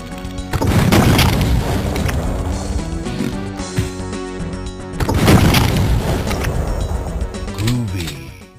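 Two heavy booming explosions from the MS-DOS shooter Duke Nukem 3D, each a loud crash that rolls and decays over a few seconds, with game effects around them.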